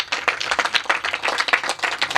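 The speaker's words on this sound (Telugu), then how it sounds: "చప్పట్లు కొట్టండి ఒకసారి." A church congregation at a Christmas sermon claps together in a brisk, steady rhythm, many hands close and loud, with no speech over it.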